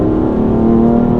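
BMW M4 F82 with 431 hp, rear-wheel drive and an M Performance exhaust, giving a loud, close, steady engine drone with a strong low hum throughout and no talking.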